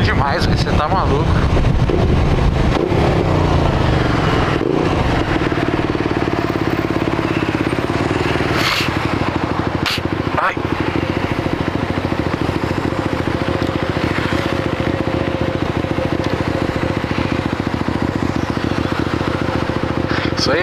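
A Comet GTR 650 motorcycle engine drones and rumbles steadily while riding at night, with strong wind buffeting the microphone, loud and close, with Portuguese voices talking over it.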